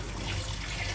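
Kewra water poured into morog polao (Bengali chicken pilaf) at home, a soft steady trickle of liquid lasting about a second with no talk.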